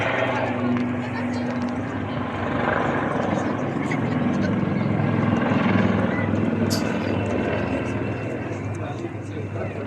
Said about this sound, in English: It's like a normal helicopter.